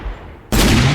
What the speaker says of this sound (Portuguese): apontar a minha pistola e atirar para dentro do poço